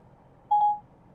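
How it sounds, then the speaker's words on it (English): A short, single dialing beep rings out from a 2017 Ford Sync 3 infotainment system placing a phone call, faint and clean in a quiet car cabin. "If you want to make a phone call, call Barry."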